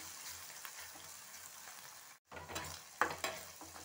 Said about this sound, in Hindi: प्याज हमारा सॉटी होने लगा है